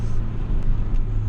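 A 2012 Honda Fit fitted with Beatrush engine mounts and Spoon rigid collars, its engine a loud, steady low rumble from inside the cabin during a brief stretch of acceleration.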